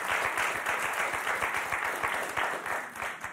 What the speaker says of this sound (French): Applaudissements pour Marc et Anne